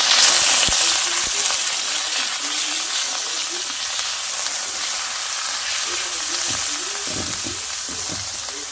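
Meat sizzling in a pan as it fries for spaghetti, a steady bright hiss with occasional stirring knocks and scrapes, holding at an even level throughout while a faint voice murmurs underneath.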